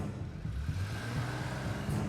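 A car engine runs and accelerates at moderate distance, a steady low rumble with slight revving as the vehicle pulls away, no voices.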